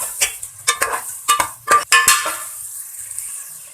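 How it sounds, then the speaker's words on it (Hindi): Spiced potatoes frying in a pan while a spoon stirs and scrapes, sharp metallic clinks and scrapes in an irregular rhythm over a soft sizzle, close with no talk. "ये देखिए जी, आलूओं को हमने 5 मिनट तक भूना"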